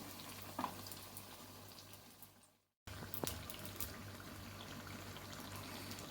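Paneer spring rolls in their outer wrappers frying in hot oil give a steady close sizzle and bubbling hiss throughout, broken by a brief silent gap partway before the frying noise resumes at the same level.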